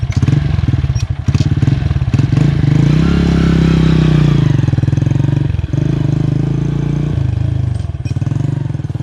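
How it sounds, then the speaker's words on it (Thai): A Honda Sonic 125 motorcycle with a modified stock exhaust, baffle removed, rumbles loudly and close by, its deep throaty engine swelling briefly as it rolls past, steady throughout. "เสียงเขาจะออกนุ่มๆ ไม่ดังไม่ดังไม่ถือว่าดัง มันจะออกคล้ายๆกับเสียงท่อเดิมของโซนิกตัวใหม่เลยนะอ่า"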